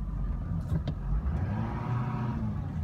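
A 2004 Chevrolet Silverado pickup is driving in four-wheel low, its engine a steady, close, low rumble with a slight rise in revs and no voices over it.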